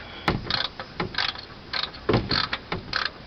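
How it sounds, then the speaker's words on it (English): Ratcheting clicks of a wrench turning during an oil change on a 2014 Toyota Sienna, a close series of short mechanical clicks and creaks in an uneven rhythm, no talking. "so I'm going to continue doing that with the wrench"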